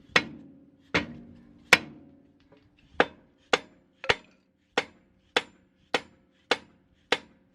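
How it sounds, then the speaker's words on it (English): A hammer strikes a car jack under a Toyota RAV4 Prime during a rear Eibach Pro-Lift spring install, twelve sharp metallic blows, nearly evenly spaced and clear, with a short pause after the first three. "I'm hitting the jack to try to get this to align with the knuckle here"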